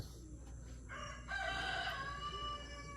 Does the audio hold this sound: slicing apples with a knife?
no